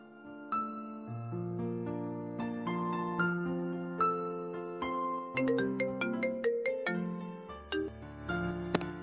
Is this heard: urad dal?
no